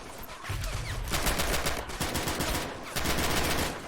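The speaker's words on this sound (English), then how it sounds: "Firing at that AT gun, it seems" Gunfire aimed at an anti-tank gun in the Men of War: Assault video game, sustained rapid machine-gun bursts in several long volleys with brief pauses between, loud and close, no talk.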